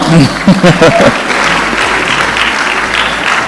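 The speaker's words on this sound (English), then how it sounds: "This is where you clap." Audience at a startup finalists' pitch event breaks into clapping right after a brief spoken announcement, the applause continuing steadily and fairly loud to the end.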